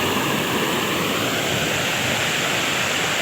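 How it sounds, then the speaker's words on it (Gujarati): Water overflowing a check dam after heavy rain in Amreli farm country, a loud, steady broadband roar of rushing water close by, unbroken throughout with no voices. "કેટલું પાણીનો અવાજ છે, કેટલો મસ્ત છે"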